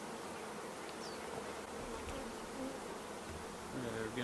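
Honeybees buzzing steadily around an opened hive during an early spring inspection, a dense, continuous drone close by with no talking.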